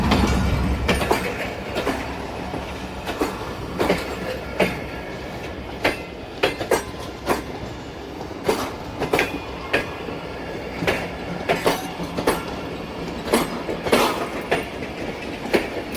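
Millat Express passenger train, old and worn, running on rails, with steady rumbling and a rapid clickety-clack of wheels over rail joints, close and continuous with no talk.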